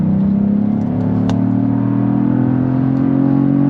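A 2022 Cadillac CT4-V Blackwing with a 6-speed manual holds a strong, steady engine drone as it pulls under load, loud and close throughout.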